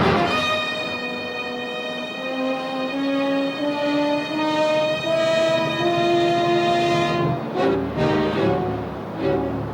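A train horn sounds a long, sustained multi-tone blast, slowly bending in pitch, then breaks into clattering rail noise at the end.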